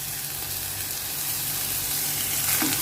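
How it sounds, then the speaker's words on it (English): Shrimp and spinach frying in a pan on low flame for a Bengali chingri palak bharta, a steady close sizzle that stays even throughout. "On low flame, fry for 7 to 8 minutes."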